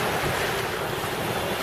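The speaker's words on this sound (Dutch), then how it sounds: "En we gaan nu deze golfjes heen." Sea waves wash around a sailboat heading out of the tidal inlet between Rottumeroog and Rottumerplaat in light wind, a steady close rushing swash with wind buffeting the microphone and no voices.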